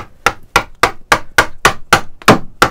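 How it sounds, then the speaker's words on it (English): A chisel is struck rhythmically while chipping excess wood from an archtop ukulele body, with ten sharp, close, evenly spaced blows that ring briefly, and no talking. "Now I love a bit of chisel action so I'm going to go in"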